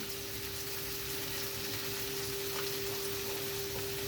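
Taro and potatoes fry in a pan with a steady, close hiss and crackle of sizzling oil that holds evenly throughout, with no voices.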